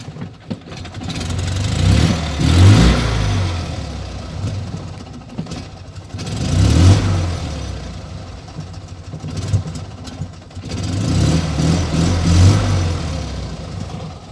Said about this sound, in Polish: Jak ładnie cyka na wolnych obrotach silniczek